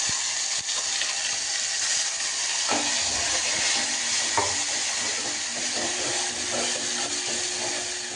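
Ground spice masala paste of garlic, ginger and coriander frying in a pan for besan vadi curry, a continuous sizzle with scraping stirs and a few knocks of the spoon, close and alone.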